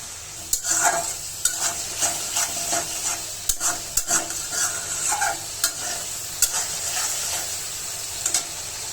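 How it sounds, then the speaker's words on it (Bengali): Spice paste with chopped green chillies frying and being stirred in a pan for a taro and shrimp curry, a steady sizzle broken by repeated scraping strokes of the spoon, close and alone without talk. "কাঁচামরিচ দিয়ে দিলাম মশলাটা ভালোভাবে কষিয়ে নেব"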